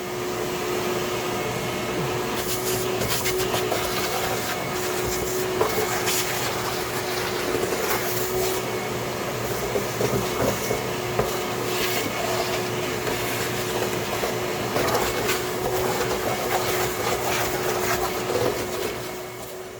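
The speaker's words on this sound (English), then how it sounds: "Let me get the vacuum." A vacuum cleaner picks up debris inside a 1985 Mercedes 300TD wagon, running as a steady, loud, broadband whoosh with a constant whine for the full length, with no talking over it.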